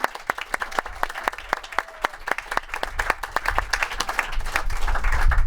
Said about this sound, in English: We have one more round of applause for our newest inductees